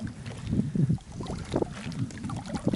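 Gusty wind buffeting the microphone over the uneven slosh of waves around a boat while crayfishing, rough and continuous, without voices.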